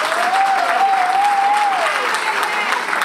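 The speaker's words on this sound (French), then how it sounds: "Je voudrais qu'on acclame très fort pour lui ce soir." An audience at an evening worship gathering applauds and cheers for Karel, dense continuous clapping with a raised voice or whistle line riding above it, full and close throughout.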